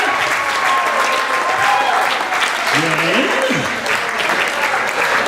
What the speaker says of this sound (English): another round of applause for T.A.